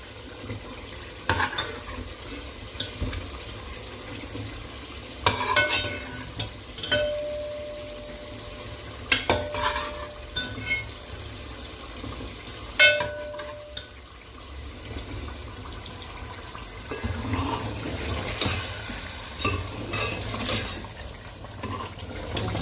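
Steamed koftas fry with a soft sizzle in a pan while a spoon stirs and clanks against the metal every few seconds, with no talking.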